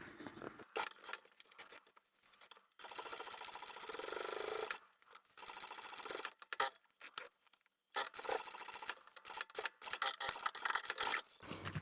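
A sewing machine top stitching a leather or vinyl zippered pouch at a 4 mm stitch length runs in several close bursts of steady whirring, separated by short pauses and light handling noises.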